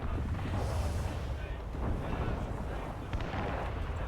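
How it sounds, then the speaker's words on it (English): Rumbling explosions and cannon-like blasts in the naval action game Assassin's Creed Rogue, a dense continuous low roar with bursts throughout, loud and filling the scene while a voice talks faintly underneath. "Sea shanties, but it's being overridden by the fucking explosions."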